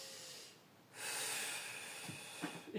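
A single breath drawn in during a pelvic floor exercise, a soft airy rush that swells after a brief pause and holds steady, with faint small sniff-like bursts near the end.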